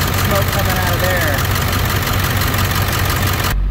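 Diesel International T444E engine idling on a tow vehicle with 11,500 hours, a loud steady rumble running throughout before cutting off abruptly at the end.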